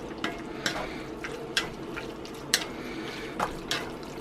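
Fettuccine alfredo sauce being stirred in a cast iron pan off the heat, a soft wet bubbling under several separate scraping spoon strokes, close and fairly quiet, no talking.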